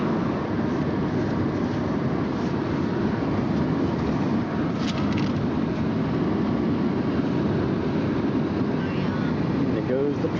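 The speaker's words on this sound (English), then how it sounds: "There goes the train." A steady, loud rumble of a train rolling past, broadband and continuous throughout with no breaks.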